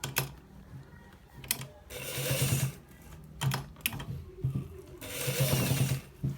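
A sewing machine stitches a designer button shirt in short bursts of rapid mechanical clatter, starting and stopping several times with brief clicks and pauses between runs.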